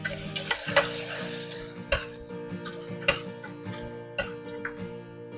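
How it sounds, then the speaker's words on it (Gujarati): Potatoes frying with red chili in a pressure cooker while a spoon stirs, steady sizzle under repeated sharp scraping clicks against the metal, close and continuous. "હલાવી અને તરત જ આપણે બટેટા એડ કરીએ."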